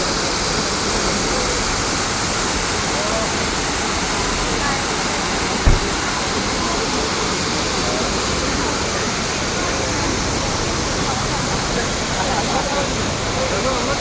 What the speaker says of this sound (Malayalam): വളരെ പൊക്കത്തിൽ നിന്നാണ് വെള്ളച്ചാട്ടം താഴേക്ക് വരുന്നത്.